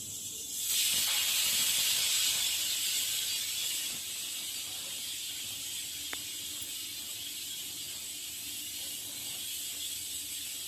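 A pressure cooker of soaked green chickpeas with salt and a bay leaf lets out a loud, hissing steam whistle that starts abruptly, holds for a few seconds, then eases into a softer steady hiss.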